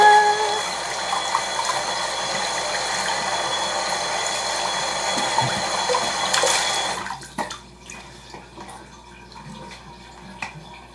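Face washed under running water: a steady tap stream flows close by for several seconds, then cuts off, leaving scattered splashes, drips and small handling clatters.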